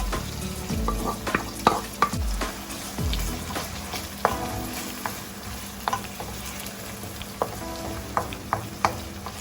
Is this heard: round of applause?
no